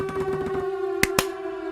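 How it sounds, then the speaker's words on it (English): A steady wailing siren tone holds throughout, with two sharp claps or bangs breaking in near the end. "Sirens are galore."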